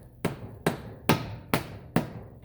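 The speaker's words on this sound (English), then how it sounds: "get yourself a mallet and do the pound" Five heavy, evenly spaced mallet blows thud against metal as a CV shaft is pounded into place on a 2022 Honda Civic, each ringing briefly before the next strike, close by with no talking.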